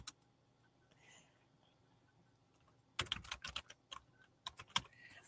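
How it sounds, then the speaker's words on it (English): Quick clicking keystrokes on a computer keyboard come in a close, irregular burst after a quiet stretch, crisp and fairly faint, with no talk over them. "That's how I'm typing it."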